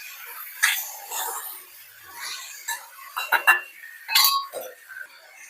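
A metal spoon stirs pumpkin pieces in a cooking pan, making a series of light, irregular clinks and scrapes that are close and fairly clear.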